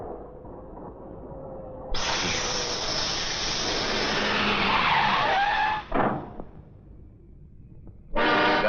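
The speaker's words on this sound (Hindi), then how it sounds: "गाड़ी को भी इस वक्त पंक्चर होना था।" A car skidding after a tire puncture makes a loud, sustained screech lasting several seconds over a low engine rumble, followed by brief scraping bursts, a short lull, and then another abrupt surge of noise.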